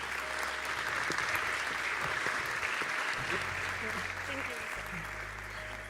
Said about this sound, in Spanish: Un fuerte aplauso también para recibirla.